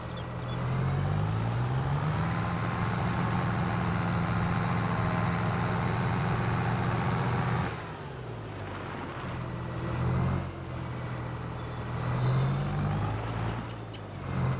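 A tractor engine plowing a grass field in Farming Simulator 22 drones with a loud, steady rumble, dipping briefly partway through before revving back up under load.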